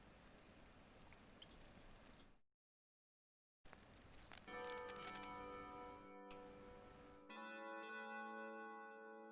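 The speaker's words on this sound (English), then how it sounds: "Synth, heavenly bells." Heavenly bells synth preset in Soundtrap plays sustained, shimmering bell-like tones that ring out after a noisy passage and a brief silence, the stacked tones swelling loud and bright toward the end.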